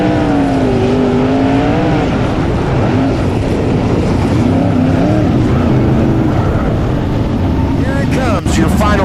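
Sprint car engines roar at a Buckeye Outlaw Sprint Car Series dirt race, a loud continuous multi-car drone with pitch sweeping up and down as the cars accelerate, while an announcer talks over the PA.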